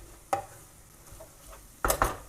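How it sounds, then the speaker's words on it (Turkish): Flour being roasted in a pan for a creamy mushroom soup, with a utensil scraping and tapping against the pan in a few sharp isolated knocks over a faint quiet background. "Güzel kavur, unu güzel kavurmamız lazım."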